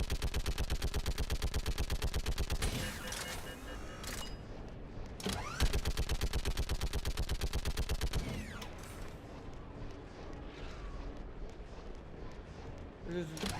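Mounted gun in Mass Effect 3 firing long rapid automatic bursts, loud and steady rattling with short pauses between volleys, followed by quieter scattered shots and battle noise.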